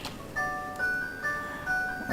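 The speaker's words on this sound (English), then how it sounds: "That's a phone call." An incoming phone call rings as a repeating electronic melody in short tonal bursts, moderately loud, over faint background noise.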